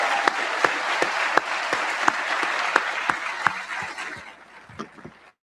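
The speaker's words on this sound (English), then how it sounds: "let's take a moment to thank the lieutenant who sang our national anthem to us. How about that? A round of applause" A round of applause at an Officer Training School graduation ceremony honoring the lieutenant who sang the national anthem, steady crowd clapping with distinct louder claps, tapering and ending abruptly.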